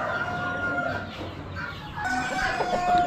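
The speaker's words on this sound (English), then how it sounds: "Some black roosters." Black roosters at a poultry auction crowing and clucking, several birds layered together in a continuous, busy barnyard chorus that stays fairly loud throughout.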